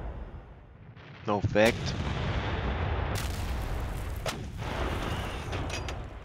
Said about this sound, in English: let's take these guns, see if we can fire here